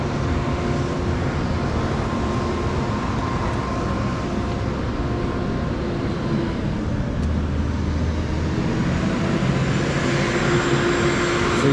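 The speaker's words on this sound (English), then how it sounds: "We backed the tractor up to it, and he's gonna load it up and" A farm tractor engine hooked to a dyno in a building runs under heavy load, a loud, steady, unbroken drone with a constant hum that holds throughout.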